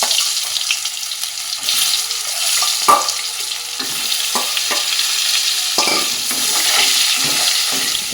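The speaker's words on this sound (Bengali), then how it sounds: "এবার আলুগুলো ভেজে নেব।" Potatoes fry in a pan at home with a loud, continuous sizzle, overlaid with scraping stirs and clatters at irregular intervals.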